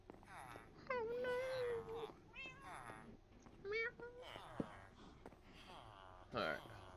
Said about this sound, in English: Why does the cat always sound like saying, oh no?